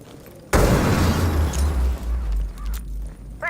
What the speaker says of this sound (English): Dropping EMP grenade.